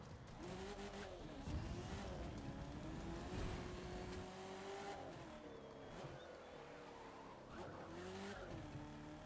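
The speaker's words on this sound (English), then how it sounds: "and then I nitrous here" A race car in The Crew 2 roars under a nitrous boost, engine pitch climbing and shifting through gears with tire squeal mixed in, loud and continuous throughout with no talking.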